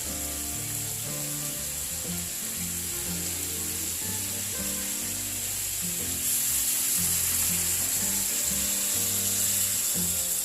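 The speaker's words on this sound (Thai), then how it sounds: "ก็นำหมูที่หั่นมาเมื่อกี้ ลงกระทะคั่วต่อครับ" Pork sizzles and scrapes in a hot pan while stir-frying, with continuous frying crackle, while a stirring utensil knocks against the pan in an irregular rhythm.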